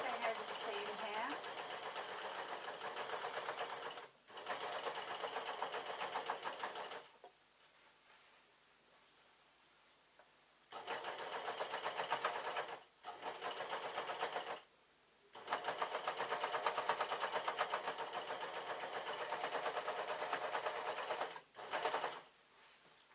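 A sewing machine runs close and steady while stitching over a seam in denim and tartan fabric, in several long bursts separated by short pauses and one longer quiet gap.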